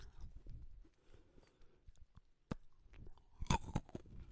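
Crunchy bites into a honeycomb-filled chocolate snack, a few sharp crunches with soft chewing between, close and quiet, loudest burst near the end.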